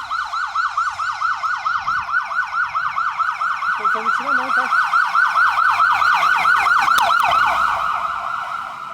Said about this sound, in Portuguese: Ó a ambulância.